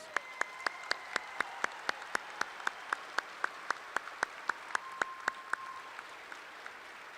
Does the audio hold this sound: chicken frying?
no